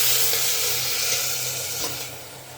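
Fresh water runs steadily from a kitchen tap beside a clay stove, a continuous close hiss and splash with no talk, easing slightly toward the end.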